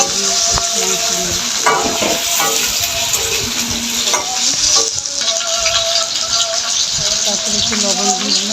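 Chicken and potato pieces sizzle loudly in hot oil in a pan, with steady frying hiss and repeated scraping stirs of a spatula throughout.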